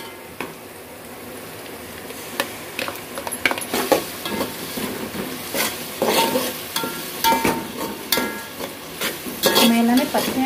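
Ground green paste for biryani sizzles with onions in a pan, stirred with a spoon that scrapes and knocks against the metal in an irregular rhythm, close and steady.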